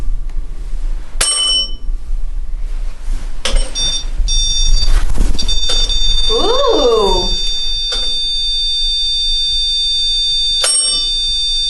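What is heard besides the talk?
bell ringing on a ghost-hunting device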